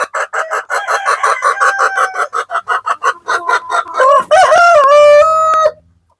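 Light Sussex hens cluck in quick repeated bursts, then a rooster crows loudly and close, all without any talking.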